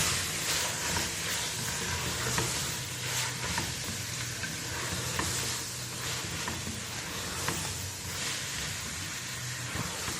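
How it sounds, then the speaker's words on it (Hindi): Potatoes fry in a pan of hot oil with a steady, close sizzle as a spoon stirs them, occasional scraping cutting through the constant hiss, with no voices. "आलूओं को थोड़ा सा चक्कर देने के बाद"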